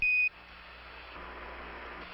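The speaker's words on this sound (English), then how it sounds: "Roger, 1201 alarm." Apollo 11 lunar module 1201 program alarm during the lunar descent: a short, steady electronic tone sounds loudly at the start, then cuts off into faint radio hiss, with a hint of the tone returning at the very end.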